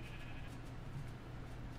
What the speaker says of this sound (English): Oh, there's a sheep right there, okay?